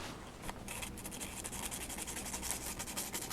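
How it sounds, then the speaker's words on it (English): Sandpaper rubbing corroded metal contact on an electric Snow Joe snowblower, a quiet, close, rapid scratching with quick repeated back-and-forth strokes and no voices. "So I'm going to get some sandpaper and clean that up."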